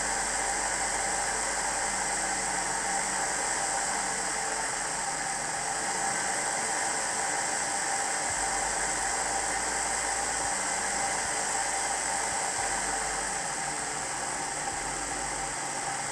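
A small HO/OO gauge model locomotive motor runs on a rolling road, giving a constant close whirring hum over a steady hiss with no talking.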